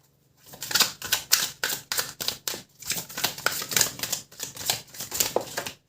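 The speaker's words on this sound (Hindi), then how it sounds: "मिस्टिक मंडेज टैरो, इसको अच्छे से शफल कर लेते हैं।" A deck of tarot cards shuffled by hand, close and crisp, a quick series of riffling bursts with brief pauses between them.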